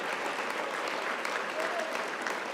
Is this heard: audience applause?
yes